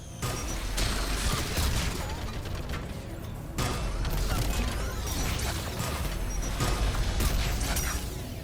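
Rapid mechanical turret gunfire from the Mass Effect 3 video game, dense and continuous bursts with a short lull near the middle, loud and close amid clanking battle noise.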